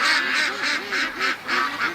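A small duck sitting outside its pen gives a run of loud, nasal quacks in a quick repeating rhythm, close by.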